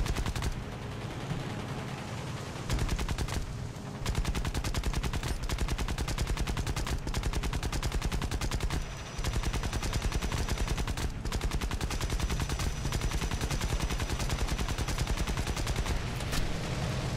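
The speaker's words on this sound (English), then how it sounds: "we got massive gunfire on our ass" Machine gun fire in the aerial combat video game War Thunder rattles in long rapid continuous bursts, loud and dense, with brief pauses between strings of shots.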